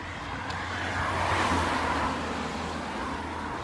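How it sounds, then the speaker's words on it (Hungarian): Cars pass along a main road with a continuous broad whoosh of traffic that swells toward the middle as a vehicle goes by close, then eases back to a steady roadside rush. "Közben jönnek, mennek az autók"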